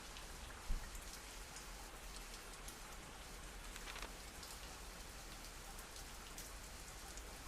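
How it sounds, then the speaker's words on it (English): Steady rain in the zombie survival game Zafehouse Diaries, a soft, even patter of drops on surfaces that continues without pause, quiet and unaccompanied. "It's starting to rain."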